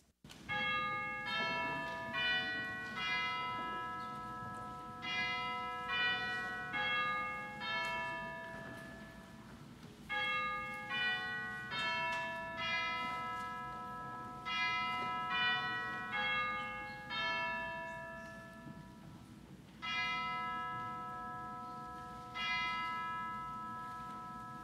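Church bells chime the hour before a worship service, with repeated rich, ringing peals in several spaced groups that sustain and overlap, loud and steady throughout with no talking.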